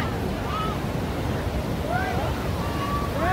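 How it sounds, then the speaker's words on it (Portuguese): Rough, choppy sea surf on a stormy day rolls steadily and loudly, mixed with wind noise buffeting the microphone and a few faint whistling tones drifting above the wash. "É aqui que o mar tá agitado hoje, pessoal."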